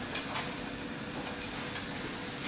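Bacon sautéing in olive oil gives a steady, dense sizzle throughout, close and even, with faint crackles and no voices.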